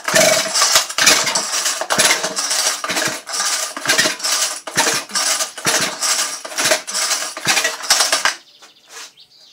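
A Stihl chainsaw is yanked repeatedly in quick rhythmic pulls, the motor sputtering and rattling without catching, then falling quiet near the end.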